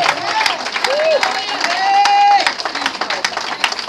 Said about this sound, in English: If we believe it, let's clap our hands for Jesus.